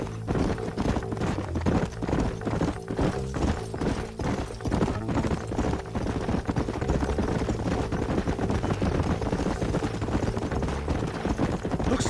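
Horse hooves clip-clop in a steady, quick rhythm, several horses riding together across the frontier in the video game Red Dead Redemption. They are loud and continuous, with a low rumble underneath.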